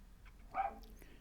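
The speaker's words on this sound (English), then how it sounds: "Excuse the dog, she's barking her head off." A single short dog bark, a bit muffled and fairly distant, over a quiet background.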